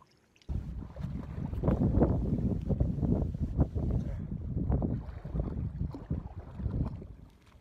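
Gusty wind of about 15 miles an hour buffets the microphone on a lakeshore at Castaic in a heavy low rumble that swells and eases, with faint water and boat sounds underneath.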